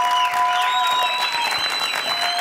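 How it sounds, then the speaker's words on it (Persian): Studio audience applause fills the moment, a dense steady wash of clapping on a TV music show stage, with sustained musical tones ringing underneath throughout. "این صدای تشویقایی که بارها و بارها در طول این برنامه برای دو سه نفر خاصی مثل پانیدا"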